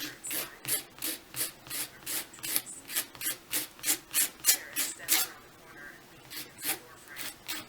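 Steady rasping strokes of a nail file, about two per second in an even rhythm, close and clear with no talking.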